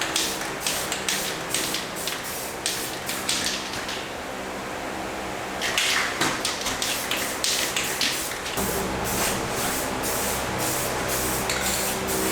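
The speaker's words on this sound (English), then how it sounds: "So we're gonna paint kind of from here, just the back side here, to see how it looks." Spray paint hisses in repeated short bursts, laying a camo pattern on the back section of a jon boat; a steady, close spatter with brief pauses and a low background hum.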